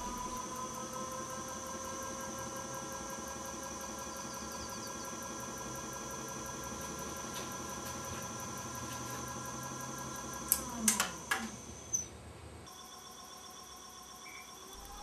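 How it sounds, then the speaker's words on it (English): A very old electric motor, its armature connections reversed so it spins the opposite way, hums steadily with a rich whining tone, then gives a few sharp clicks and clunks before winding down near the end. "Notice the motor runs in the opposite direction."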